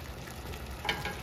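Goat meat fries in a pan over low heat, giving a soft, even sizzle and faint crackle throughout, quiet and steady with a slight bump near the end.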